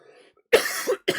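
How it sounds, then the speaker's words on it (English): A bad cough from bronchitis, two harsh bursts close to the mic, the first longer with a rough rattling tail and the second short, after a brief quiet gap. "I have bronchitis, so I have a bad cough"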